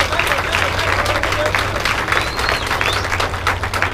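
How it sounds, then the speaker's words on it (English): Steady, dense applause from a crowd at a Walmart Supercenter grand opening in Oklahoma City, continuous clapping throughout over a low hum, with some voices among it. "Give yourself a round of applause."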